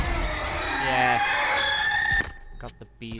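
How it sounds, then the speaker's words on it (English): A chicken in the video game Dragon Age: Inquisition lets out a short run of clucking and crowing calls, fairly close and clear, followed by a few quick fainter sounds. "There's the chicken that I was telling you about."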